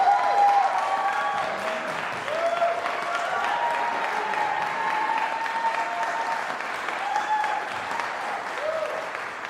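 An audience gives sustained, steady applause welcoming mezzo-soprano Daveda Karanas at a university presidential seminar, a dense wash of clapping lasting several seconds.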